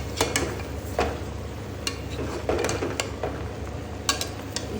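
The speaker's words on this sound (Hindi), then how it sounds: "इसकी अब हम अच्छे से भुनाई करेंगे, तकरीबन 15 से 20 मिनट है अच्छी तरह ये में फ्राई करना है" Meat and tomatoes fry in a pot for Peshawari namkeen gosht, a quiet sizzle broken by repeated scraping stirs and clinks of the spoon against the pot.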